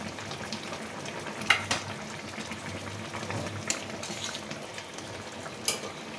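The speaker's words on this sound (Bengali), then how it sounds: "এবারে চিংড়ি মাছগুলো সব দিয়ে দিচ্ছি।" Prawns sizzle and fry in a pan of hot oil for a light Bengali ridge gourd and prawn curry, a steady crackle with a few sharper pops and clinks.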